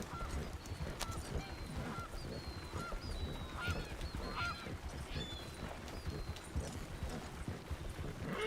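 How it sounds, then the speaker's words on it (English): Wild birds calling in a Red Dead Online outdoor scene, including goose-like honks, scattered repeated chirps and calls over a steady ambient wash, moderately loud and without talk. "Some of these birds that I hear, I recognize from real life."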